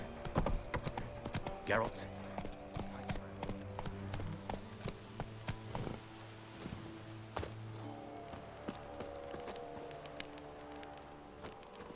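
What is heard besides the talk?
horse Roach galloping, hooves, from video game The Witcher 3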